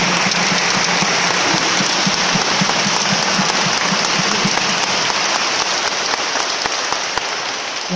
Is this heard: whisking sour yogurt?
no